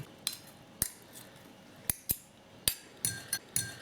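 Chopped salad ingredients are tossed in a bowl, with sharp clinks and taps of a utensil against the bowl, about eight or nine distinct knocks spaced irregularly, close and fairly loud, with no voice.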